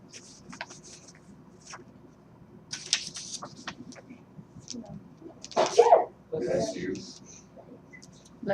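A single sneeze bursts out loudly in a classroom during a math lesson, standing out over low room noise and scattered clicks.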